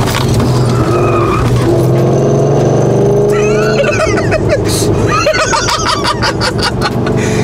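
A car brakes hard with a loud tire skid and squeal, the engine loud and close throughout, tire noise sweeping across the middle and end of the run.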